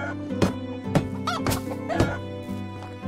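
Chickens in the medieval farming game Medieval Dynasty give a few clucks and squawks over several soft thunks and steady ambient game sound, the clucks coming in short bursts.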